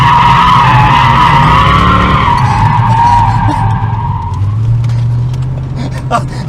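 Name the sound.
Chevrolet Corvette C4 5.7L V8 accelerating through gears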